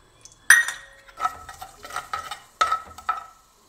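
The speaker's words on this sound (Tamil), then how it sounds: "கடுகு வெடிக்க ஆரம்பிச்சிருச்சு." Mustard seeds crackle and spit in hot oil in a pan, with a sharp initial burst and scattered popping bursts, close by and moderately loud.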